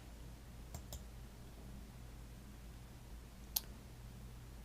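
A computer mouse gives a couple of faint, quick clicks, then a single sharper click a few seconds later, all set against a quiet room hum.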